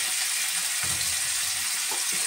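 Beef dropped into a hot pan with toasted cumin seeds, giving a continuous bright sizzle and crackle with a few soft stirring scrapes, close and steady throughout.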